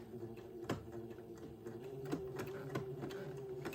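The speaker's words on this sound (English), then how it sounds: "I'm going to sew the back of the bonnet to the top side of the teacup" A sewing machine runs a zigzag stitch joining the back of a teacup-style bonnet, with a low steady motor hum and a run of quiet, regularly spaced mechanical clicks, fairly faint and close by.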